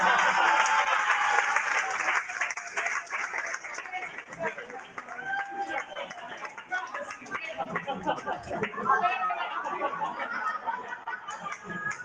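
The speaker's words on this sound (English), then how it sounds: "Give them a big round of applause." Audience at a magic show claps and cheers, a busy mix of clapping, laughter and chatter that stays fairly loud throughout, with voices mixed in.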